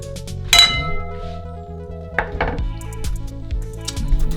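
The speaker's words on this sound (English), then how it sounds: "I'm gonna need this bowl right here, just there." A bowl picked up and set down on a kitchen counter, with a few distinct clinks and knocks against a quiet background of faint tonal hum, no speech.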